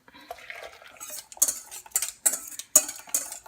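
A utensil stirs cake batter for a gluten-free Basque cake in a bowl, with repeated bright clinks and scrapes against the sides in an uneven rhythm, close and clear, growing sharper toward the end.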